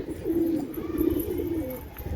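A pigeon coos in low, rolling, repeated phrases, close and steady against a faint background hiss.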